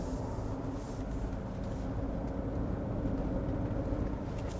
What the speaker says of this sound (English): you can also hear the off-road tires, Cooper tires a bit